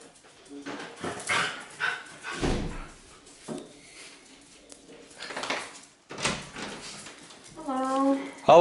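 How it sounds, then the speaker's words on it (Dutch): Dogs at a house door, yelping and whimpering with thumps and a door clatter, close and lively, with people talking throughout. "En dan komen die honden."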